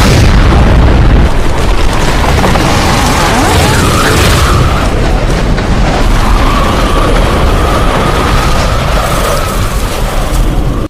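A missile blows up in a Rambo film scene, a massive sustained roar of explosion that fills the whole stretch. It is very loud and dense, with rumbling and crackling debris and no clear speech.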